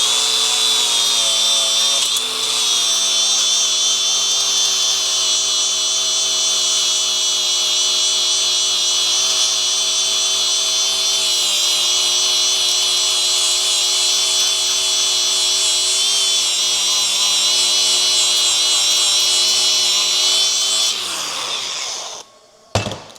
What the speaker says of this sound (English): First up, let's clean this one with the grinder.